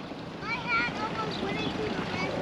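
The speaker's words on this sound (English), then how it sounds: "it is pretty windy out today" Steady wind rushing over the microphone outdoors, with faint voices and some squeaky chatter mixed in.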